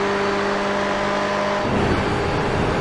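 Onboard engine of a Ferrari GTE race car in iRacing at the Daytona Road Course, a loud steady droning roar with a held tone that shifts abruptly to a rougher, gruffer rumble near the end, with no voices.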